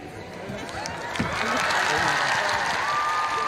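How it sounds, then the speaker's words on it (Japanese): Cheering and applause from a crowd of over 3,000 spectators at an open figure skating practice as Yuzuru Hanyu steps onto the rink, a broad roar that swells after the first second and holds steady, with no talking over it. "湧き上がる歓声。"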